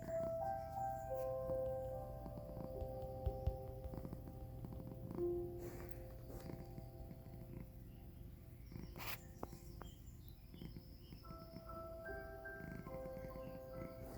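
A cat purrs softly and continuously close by, a low rhythmic rumble under faint background tones and a few small clicks, with no talking.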